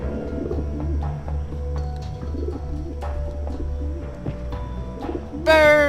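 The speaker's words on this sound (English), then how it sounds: "Also, there's sounds of birds." Birds coo softly in the background of The Talos Principle video game, repeated low pigeon-like calls under ambient game sound, ending with a brief bright tonal sweep.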